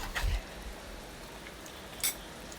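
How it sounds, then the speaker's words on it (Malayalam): Chicken curry with added water simmers in a pot, giving a steady soft bubbling crackle broken by two brief louder pops. "അപ്പോൾ അതൊക്കെ നന്നായി തിളച്ച് വരുന്നുണ്ട്."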